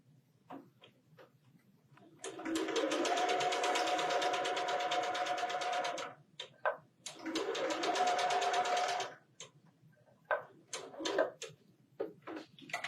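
A domestic sewing machine stitching a quilt flower block seam, two sustained runs of rapid, even whirring stitches of several seconds each, close by, separated and followed by clicks and fabric handling, with no speech.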